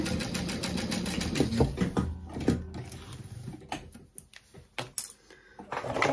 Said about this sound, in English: I always like to do a little back stitch in that corner